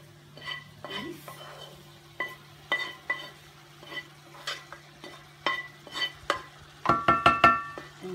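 Ground beef and vegetables being stirred in a pan with a utensil, each stir a soft scrape over a faint steady sizzle, repeated at a relaxed pace and ending in a quick run of clinking taps against the pan.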